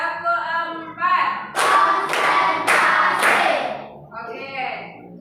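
Students in a mathematics classroom clap a counted rhythm in four loud, sharp bursts, with voices before and after.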